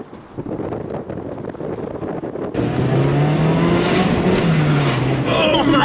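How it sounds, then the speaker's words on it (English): Lifted truck-style car hard on the gas with its tires spinning: a steady engine drone and wind buffeting give way to a loud, sustained roar with whining tire spin, while people exclaim over it. "That was straight wheel spin."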